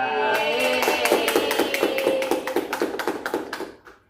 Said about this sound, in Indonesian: Mari kita beri tepuk tangan untuk narasumber kita